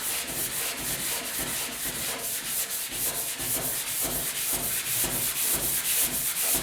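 Sanding on the cab of a 1956 Ford pickup, a steady, close, rhythmic scraping of repeated strokes with no talking.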